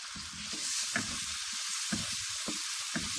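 Cumin seeds hiss and sizzle in hot oil within a cooked tomato gravy, a steady bright frying crackle with a few soft stirring knocks, no talking.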